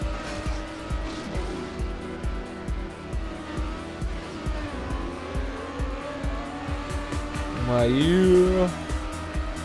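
Racing car in TrackMania with a loud, pulsing engine that rises and falls through gear changes, then a rising tire squeal near the end, while someone talks over it.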